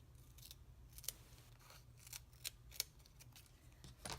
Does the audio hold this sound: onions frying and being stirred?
no